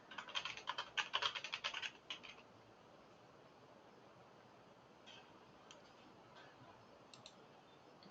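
A computer keyboard, one the typist calls faulty and sometimes unresponsive, gets a quick burst of close, crisp keystrokes over the first two seconds, then only a few scattered taps over a faint background hum.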